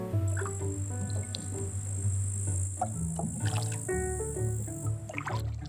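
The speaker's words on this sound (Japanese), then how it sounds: "ではボート漕ぎに行きますか" Oars dipping and pulling through a lake in Finland at an unhurried pace, with insects chirping steadily in the background and no talking.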